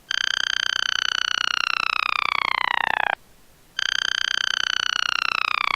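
Synthetic frog croaking effect, layered over itself with heavy echo and reverb, filling a throne room: a smooth, sustained, pulsing tonal drone that plays for about three seconds, stops briefly, then resumes.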